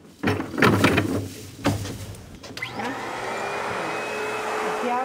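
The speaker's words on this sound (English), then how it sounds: "She's practically dwarfed by the giant vacuum cleaner she straps onto her back." A janitor's backpack vacuum cleaner clunks a few times, then its motor spins up into a loud, steady whining roar that holds to the end.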